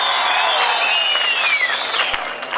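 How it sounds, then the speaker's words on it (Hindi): Audience at a stand-up comedy show at the Renuka ji fair breaks into loud sustained applause and cheering, with a whistle rising over the clapping before it begins to fade. "हिमाचल के लिए जोरदार तालियां बजा दीजिए यार"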